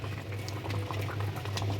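Sauce for chilli chicken bubbling steadily in a pan, a continuous soft simmering patter with a low hum beneath, fairly quiet and without talk.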